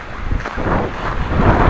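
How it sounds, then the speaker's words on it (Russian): Heavy gusts of wind buffet the microphone outdoors on a mild, snowy day, producing a loud, continuous rumbling roar with no other clear sounds. "Ветер теплый."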